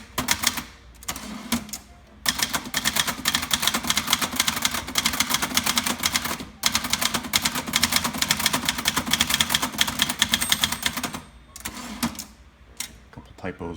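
Fast, steady clatter of a 1972 Webster XL-747 manual typewriter, made by Brother, being typed on up close, broken by a couple of short pauses and carriage returns.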